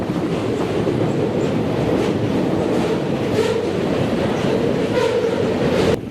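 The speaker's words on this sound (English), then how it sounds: "how peaceful it was until that train roared over" A long freight train in Canada rolls past, loud and close, with a sustained heavy rumble and rhythmic clatter of wheels over rail joints going on without a break, no voices.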